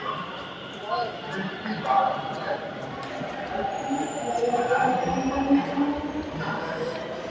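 Metro train at a station platform on a trip from Noida, with a long metallic squeal and rumble of rolling stock under crowd murmur, moderately loud and sustained.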